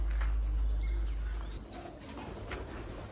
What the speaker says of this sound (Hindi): ये सारे इधर कबूतर है मुख्तलिफ इकसाम के।